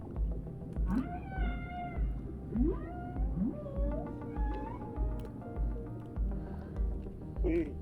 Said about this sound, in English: Oh, look, it's a dolphin.